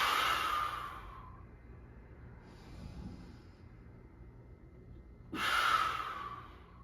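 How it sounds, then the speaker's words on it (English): Two deep breaths frame a stretching exercise: a loud, close breath at the start and another near the end, with near silence between. Each has the soft, airy rush of a strong inhale or exhale, with no talking. "So as I inhale, as I'm going back, and exhale coming up."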